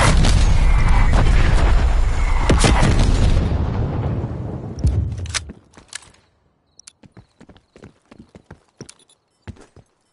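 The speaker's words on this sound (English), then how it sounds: "Hostile artillery targeting active. Net call. Incoming artillery." A barrage of heavy incoming artillery explosions in Call of Duty: Black Ops Cold War multiplayer roars loud and continuous for about five seconds, then fades into scattered sharp cracks and distant thuds.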